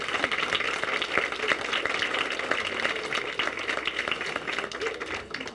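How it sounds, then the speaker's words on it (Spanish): At a university presentation event, an audience claps steadily and densely, a warm continuous wash of applause with no talking over it. "Les voy a pedir un aplauso con cariño para Pau"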